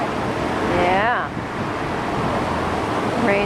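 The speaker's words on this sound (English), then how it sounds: "Rain let up a little bit. It's just really windy." Strong wind on a stormy day near a nest after rain, a loud continuous roar buffeting the microphone, with a brief faint voice-like tone in the middle.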